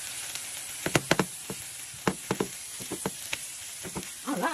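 An eggplant omelette sizzles in a frying pan with a steady hiss, broken by sharp, close clicks and taps from the spatula, several in quick succession.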